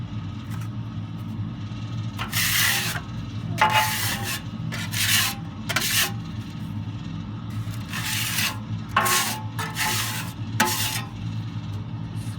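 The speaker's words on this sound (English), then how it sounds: "Scrape them all down like that. Push all this ash into your ash pan." A scraper rasps ash off the inner walls of a Harman P68 pellet stove in a series of short, gritty strokes, close up, with brief pauses between passes.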